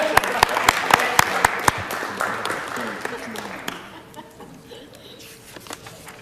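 Audience at a city council meeting applauds a participant with a short burst of sharp, close claps that quickly fade out, leaving quiet room murmur and a voice.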